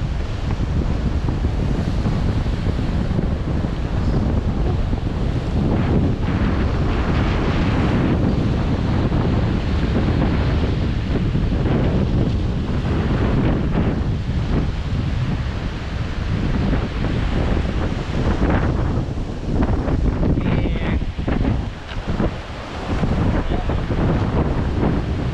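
Waves crashing on a beach at Paninap in Real, Quezon, with a continuous loud roar of surf and strong wind buffeting the microphone throughout, close and steady with no clear speech.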